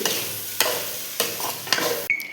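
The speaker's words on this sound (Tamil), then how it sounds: "கிளறி விடுங்க எல்லாத்தையும் ஒன்றாக்கி" Blood and egg stir-fry being stirred in a large pan, a near scrape and sizzle with a spatula stroke roughly every half second and a brief high ring near the end.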